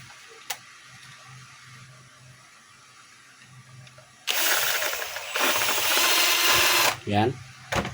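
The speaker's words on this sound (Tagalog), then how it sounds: "lagyan lang natin ng screw para hindi makalas yung kanyang handle" A screw is driven in to secure the handle of a DeWalt 5 kg jackhammer, a loud whirring and ratcheting burst of a few seconds that follows quieter handling noises.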